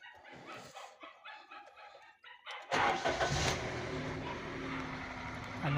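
A 2024 Suzuki S-Presso with a check-engine fault is started: a dog barks nearby first, then the starter cranks and the engine catches into a steady, close idle.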